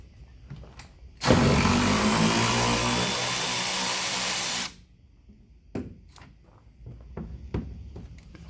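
A power tool whirs loudly for a few seconds and then cuts off, followed by scattered clunks and handling noises.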